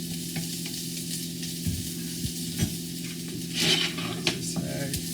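Mushrooms, peppers and onions sizzle in a pan for quick fried rice, with a steady hiss and several scraping stirs rising briefly near the end.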